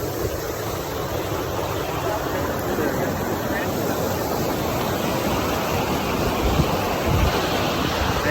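River water rushes steadily at a crossing on a glacier hike in Alaska, a loud, unbroken broadband roar with faint wind, and brief voices underneath.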